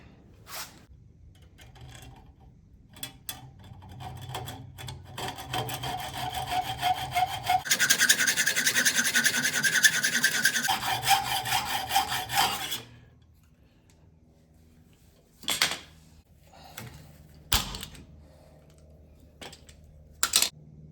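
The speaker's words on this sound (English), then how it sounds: "Now I'm going to take a good old hacksaw, and I am going to just shave it off." Hacksaw shaving off a bolt end on a 1959 Willys Jeep station wagon during a rear taillight replacement, brisk rasping strokes building to a steady loud run of cutting, then stopping, followed by a few scattered clicks and knocks.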